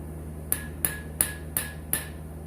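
A small hammer strikes a broken bolt that has a nut welded onto it: five sharp metallic taps at a steady pace, close and clear over a low background hum.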